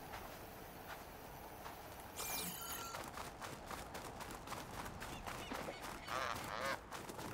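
Goose-like birds in the video game Horizon Forbidden West, giving a run of repeated honking calls over the game's ambient background, with one louder burst midway.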